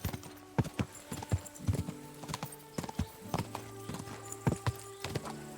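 A horse in the game Kingdom Come Deliverance 2 moves along in a steady clip-clop of hooves, close and fairly quiet, with brief rhythmic bursts and a faint whinny-like tone beneath.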